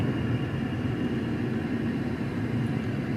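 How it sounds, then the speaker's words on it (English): An airplane takes off at Indianapolis International Airport, heard as a steady, broad engine roar from some distance, a constant low rumble holding at an even level with no voices over it. "But there was a plane taking off."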